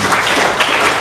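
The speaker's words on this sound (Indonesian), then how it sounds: "Boleh tepuk tangan Ibu dan Bapak." Audience applause from Indonesian seminar attendees after a talk, a dense, steady wash of clapping filling the whole short moment with no voices over it.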